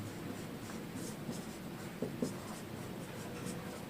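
A pen writes on paper in short scratchy strokes, close and fairly quiet, a steady run of small scribbling sounds with a couple of taps.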